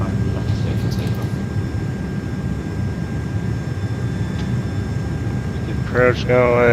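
Simulated American A330-300 airliner rolling for takeoff in MSFS2024, its steady low engine roar constant throughout, with a radio voice talking briefly near the end.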